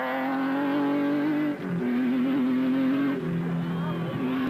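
A Chenoweth race car powered by a Mitsubishi twin-turbo V6 roars loud and close as it accelerates, its engine note dipping briefly at gear changes before climbing again.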